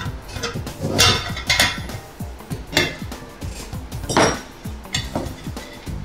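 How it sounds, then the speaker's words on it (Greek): A size 22 wrench lightly tightens a nut while a simple coin acceptor is assembled, producing a run of close, sharp metallic clinks and taps in an uneven rhythm, with no talking. "Σφίγγουμε ελαφριά με νούμερο 22 κουμπί."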